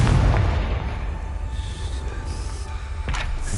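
A Confringo blasting spell explosion in Hogwarts Legacy starts as a loud, rumbling boom that slowly decays into a long, gritty low-end tail, with a sharper crack near the end and no speech.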